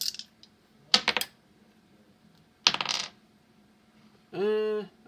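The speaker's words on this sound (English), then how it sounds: "I don't know why I'm rolling 3 dice." Three dice are rolled and dropped onto a hard surface, giving two quick clattering bursts a couple of seconds apart, followed by a short tonal sound at the end.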